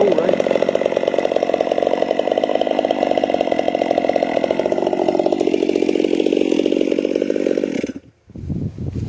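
Ported Stihl MS 362c chainsaw with a new pop-up piston running loud and steady while cutting wood, a sustained buzzing roar that cuts off abruptly near the end.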